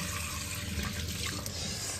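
Tap water runs steadily into a sink while someone washes their face, a continuous close splashing rush lasting about two seconds with no voices.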